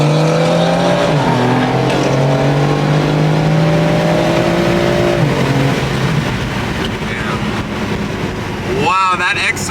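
A BMW X3M launches hard off the line, its engine revving up through rising, falling gear pulls with strong wind noise, loud and close, while voices talk over the run.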